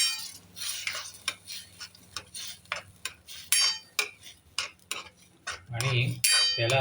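Misal masala being stirred in a metal pot, with a ladle scraping and clinking against the sides in a steady series of close, bright strokes.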